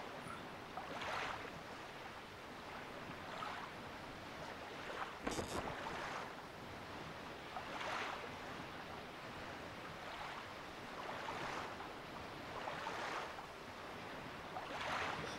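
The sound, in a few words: ocean waves and boat sailing in The Legend of Zelda: Wind Waker video game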